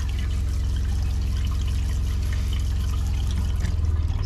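Water runs steadily from an RV tap on a Rockwood Mini Lite 2205S travel trailer during bleach sanitizing, a continuous close trickle and splash with a slight surge near the end.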